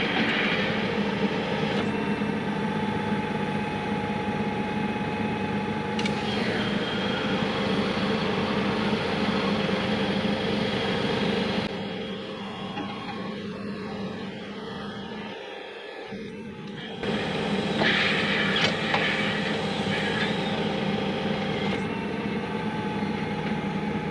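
A tractor unfolds a field roller after sowing, its engine a loud, steady drone throughout that dips quieter for a few seconds midway before returning at full strength.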